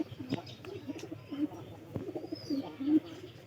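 Pigeons cooing at a home, several low rolling coos repeating every half second or so, close and clear against quiet background noise with a faint voice in the distance.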